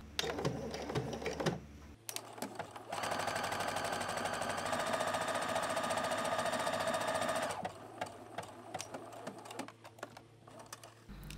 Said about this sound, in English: So I'm sewing with my Juki HW machine.